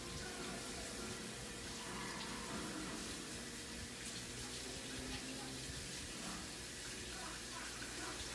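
Running tap water pours steadily and close by while an Oncidium orchid is rinsed, a constant broadband wash with no breaks.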